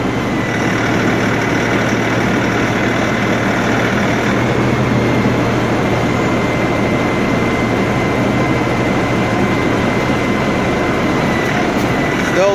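An LS XR4145C tractor engine held at about 1500 RPM gives a loud, steady drone with a constant low rumble and an even mechanical hum that does not change throughout.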